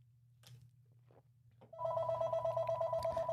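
A phone starts ringing after a few faint taps and clicks, a steady electronic ring tone that rises suddenly and continues fairly loud over a low hum, with no speech.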